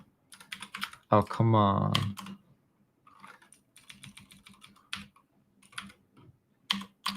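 Typing on a computer keyboard during a live hacking and cybersecurity session, a quick run of clicky keystrokes with short pauses, broken by a man's frustrated speech.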